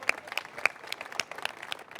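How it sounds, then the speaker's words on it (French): An audience applauds a cartoonist at a French talk show on the DNA-testing business, with scattered, fairly faint claps coming in uneven bursts rather than a sustained ovation. "Vous pouvez l'applaudir assez"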